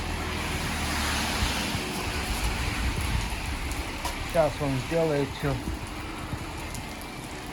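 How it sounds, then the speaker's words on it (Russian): Steady rain hisses outdoors in Vladivostok, a constant wash of noise, while someone speaks briefly in the middle. "На улице дождь."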